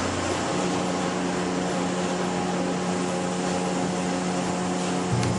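Steady mechanical drone of an injection molding machine cycling while producing thermoplastic wall plates, a constant loud hum with faint tonal whine and a small clunk near the end, no voices.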